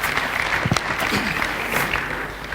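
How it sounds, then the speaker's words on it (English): Enthusiastic audience applause at a formal send-off event, dense and continuous, close and fairly loud, with a few faint cheers mixed into the clapping. "One more time, round of applause, ladies and gentlemen"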